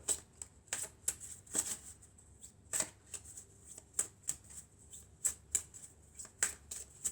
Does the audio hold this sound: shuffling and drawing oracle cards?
yes